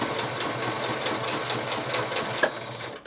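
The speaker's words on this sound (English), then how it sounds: "It's a tiny little stitch we're putting in here." A sewing machine runs steadily while stitching a short seam on a protective fabric mask, a close, even mechanical whir with a quick clack near the end.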